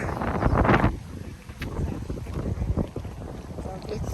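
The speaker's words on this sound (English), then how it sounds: "It's windy." Gusty wind buffets the microphone outdoors in Osaka, a loud rumbling roar that surges at the start and then keeps blowing steadily.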